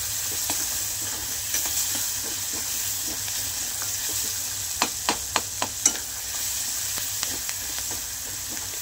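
Onions sizzle steadily in a hot pan while being fried for dal tadka, a continuous close crackling hiss broken by several sharp clinks of a spoon stirring against the pan midway through.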